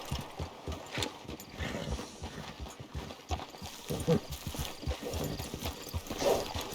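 Horse hooves clop in a steady walking rhythm in Red Dead Online, fairly close, with faint ambient sounds behind and no talking.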